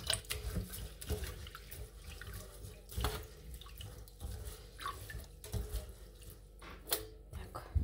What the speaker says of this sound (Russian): И уже потом наливаю воду